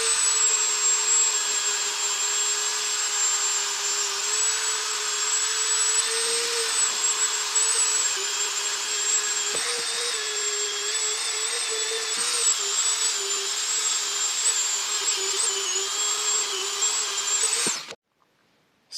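Fine abrasive bit on a high-speed die grinder porting and polishing a Ford 351W cylinder head, a steady high-pitched whine held for about eighteen seconds before cutting off abruptly.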